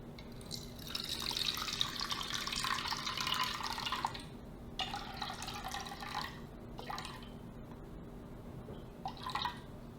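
Water poured into a bowl for ciabatta bread dough, a steady close splashing stream for a few seconds followed by brief trickles and drips, with no talking.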